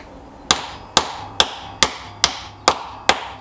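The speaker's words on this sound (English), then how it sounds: "Got my little diddy toffee hammer." Seven sharp metallic taps from a small toffee hammer, struck at a steady, even pace while working on a bicycle, each ringing briefly before the next.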